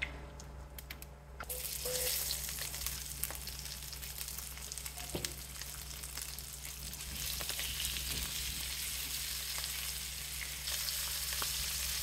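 Potatoes fry in a skillet coated with a generous amount of oil, giving a steady, close sizzle and crackle that swells after a quieter start and continues without any talking.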